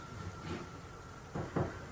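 A door is opened in an unsettling found-footage recording, giving a couple of faint dull knocks and rattles over a low background hum, fairly quiet and without voices.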